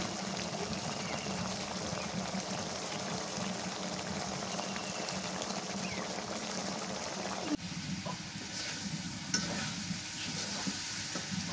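Chicken curry being sautéed and stirred in a pan, a soft continuous sizzle with faint stirring scrapes, then a brief clatter partway through as the sizzle changes.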